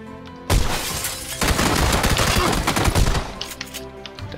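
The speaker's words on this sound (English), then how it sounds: "Yeah, I'm firing at them." Rapid gunfire in a multiplayer shooter game, a loud burst of sustained shots after a sudden onset, tapering into scattered impacts and debris-like crackles.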